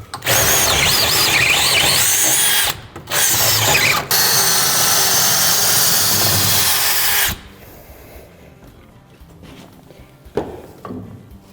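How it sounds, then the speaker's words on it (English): A power drill whines loudly and steadily while boring through a wooden post for carriage bolts, cutting out twice briefly, then stopping; faint clanks and handling noise follow. "drill through the frame, through the post, and then install the 1/2-inch carriage bolts."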